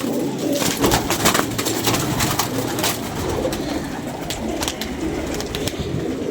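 Domestic pigeons coo at a home loft, with soft repeated coos and wing flutters close by, low murmurs in the background.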